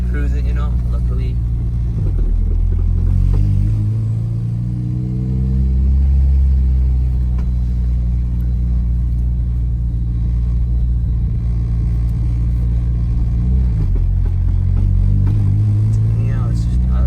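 A Honda Civic EK sedan with a swapped K20 engine idles high with a steady, loud low rumble that barely shifts pitch, while people talk over it inside the car.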